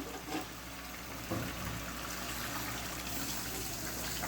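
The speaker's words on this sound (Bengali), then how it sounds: "এর ভিতরে দিয়ে দিচ্ছি এবার গরম পানি" Hot water pours into a pot of slowly cooking duck meat, making a faint, continuous watery gush and trickle that rises slightly partway through.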